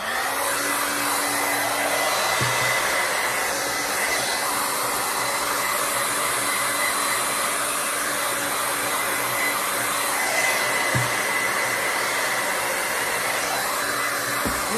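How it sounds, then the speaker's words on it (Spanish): A hair dryer blows while drying hair, a loud, steady whirring rush that holds unbroken for the whole stretch. "Y ahora con mi secador."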